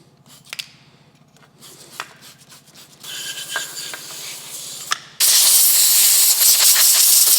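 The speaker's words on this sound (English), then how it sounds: "I'm just gonna spray a bit of aluminum brightener on these." Some handling clicks and rustling lead into a loud, continuous aerosol spray hiss of aluminum brightener that starts abruptly and keeps going to the end.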